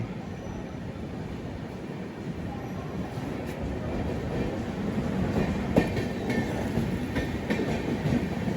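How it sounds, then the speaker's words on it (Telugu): The Pragati Express pulls into an adjacent station platform with a steady rumble and rhythmic clatter of wheels, heard from a nearby train, building slightly with a few sharp clanks. "పక్క ప్లాట్ఫామ్లో ఒక బండి అయితే వస్తుంది, ప్రగతి ఎక్స్ప్రెస్ అనమాట"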